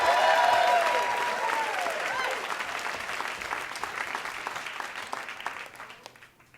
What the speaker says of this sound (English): Keep your applause going for Mark Lamb